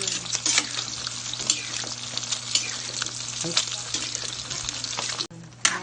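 Squash and vegetables sizzle steadily in a hot pan with frequent scraping stirs, a close, continuous frying hiss broken by sharper utensil strokes and a brief dip near the end.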